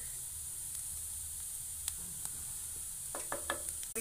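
Spiced potato stuffing for bread samosa frying in a pan, a quiet steady sizzle and hiss with a few light scrapes and stirring clicks near the end.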